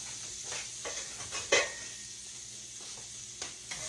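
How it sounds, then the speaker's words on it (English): A spatula stirs flour into pork loin gravy in a skillet, giving a soft, steady sizzle with a few scraping strokes against the pan, one louder clack near the middle. "Stir it around till it gets kind of brown."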